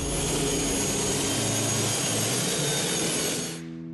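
MTT turbine-powered motorcycle engine producing a loud, steady jet-like whine and roar that holds constant, then cuts off abruptly near the end, leaving a lower lingering hum.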